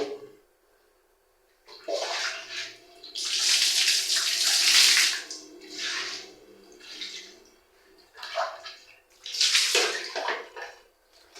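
Food is rinsed under a running tap, with bursts of splashing water that start and stop several times, fairly loud and close, and nobody talks.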